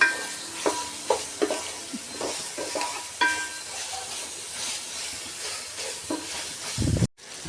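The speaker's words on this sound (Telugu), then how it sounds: "టమాటా ముక్కలు వేసుకున్నాక బాగా కలుపుకోవాలండి. టమాటా ముక్కలు అనేవి మగ్గిపోవాలి ఆయిల్లో." Tomato pieces cook in oil in a pan while being stirred, a steady soft sizzle broken by a few spoon scrapes and knocks, with a louder clunk near the end.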